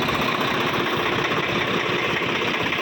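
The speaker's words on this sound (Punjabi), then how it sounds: "ਆਪਾਂ ਇੱਕ ਟਰੈਕਟਰ ਖੋਲਤਾ" A tractor engine runs steadily throughout, a close, loud, continuous low rumble with a rough, slightly knocking idle texture and no speech.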